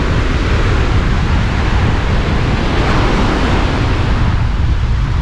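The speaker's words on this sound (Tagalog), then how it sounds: "Para hindi ganito ka hangin." Strong, cold wind sweeps a beach in Ilocos, a steady, loud roar of rushing air and surf that holds unbroken throughout.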